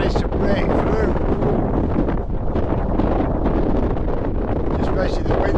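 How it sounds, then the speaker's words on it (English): Strong wind blows at about 20 mph outdoors, roaring steadily and loudly into the microphone with constant buffeting rumble and no pauses. "Just basically the wind's there at 20 miles an hour."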